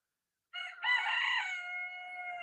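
A rooster crowing in a garden with chickens, one clear drawn-out crow rising then holding and fading, fairly close and alone after a moment of silence.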